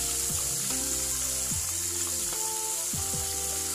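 Fish fries in hot oil in a pan, one side already cooked after flipping, with a steady loud sizzle and occasional stirring or scraping sounds in a village kitchen.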